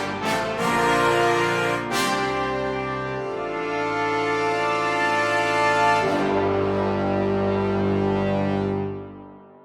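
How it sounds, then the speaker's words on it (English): A brass section of trumpets, trombones and tuba plays a sustained horn line, rich and loud with bright attacks near the start and a chord change midway before fading out at the end. "we have all of the brass instruments except for the horn."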